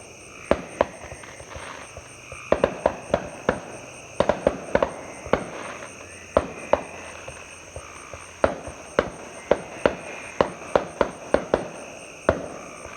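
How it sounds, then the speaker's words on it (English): Distant fireworks pop and crack in irregular bursts over a rural evening of hayfields, pasture and creek, a steady chorus of insects and frogs droning beneath the sharp, scattered reports. "Can you see the fireworks?"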